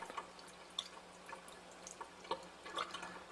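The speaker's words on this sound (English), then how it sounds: "We'll rinse the test tube out." Water rinses out a test tube during an alkaline water test, heard as scattered small drips and splashes, close and fairly quiet.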